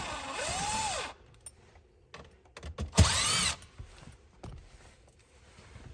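Power tool whirring in two bursts to remove the last screws during a Porsche short shifter install, a rising whine that stops, then a second burst, with scattered clicks and taps of parts after.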